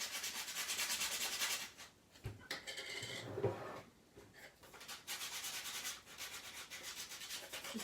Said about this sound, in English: I'm going to see what it looks like if I sand the edges down and rough it up.